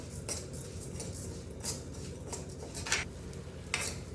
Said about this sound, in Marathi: हा आता तुपामध्ये बदामी रंगावर परतून घ्यायचा आहे